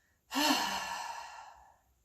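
A single deep, breathy exhale during a stress-relief stretching and breathing exercise, close and clear, swelling quickly then fading slowly over about a second and a half, with no talking.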